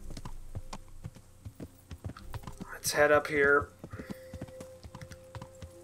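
Horse hooves clip-clop in Kingdom Come: Deliverance, a steady light rhythm of steps running under a man's speech throughout.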